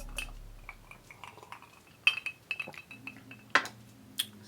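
Glasses clink in a toast, with several sharp, bright chimes scattered over a few seconds and quieter taps and handling sounds between them, close and otherwise without talk.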